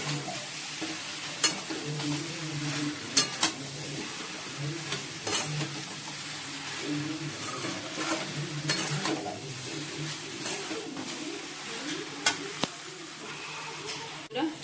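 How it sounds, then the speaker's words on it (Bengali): Potato curry being stirred and sautéed in a pan, with a soft continuous sizzle and repeated scraping strokes of a spoon against the pan, occasional sharper clinks, close and moderately loud. "চলো ভালো করে মিশিয়ে কষিয়ে তারপর অল্প করে জল দিয়ে দেবো"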